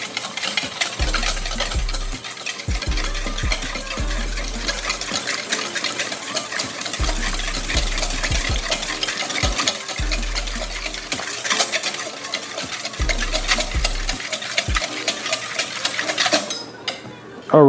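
A dry breading mix of flour and chili powder stirred in a bowl, a continuous scraping and clinking of utensil against the dish with repeated low thumps, loud and close without speech.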